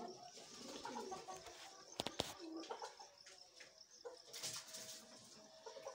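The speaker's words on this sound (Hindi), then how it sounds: "इस वास्ते हम कबूतरां बेचारिਆਂ ਨੂੰ लागे खलो के खवाना पैंदा है।" Pigeons cooing softly while being fed outdoors, steady low coos with a few sharp clicks or flaps in the middle, fairly quiet and close with faint background ambience.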